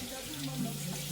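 Tap water runs steadily at a sink while goat meat is rinsed inside and out for Jamaican curry goat, a soft continuous splashing hiss with no talk over it.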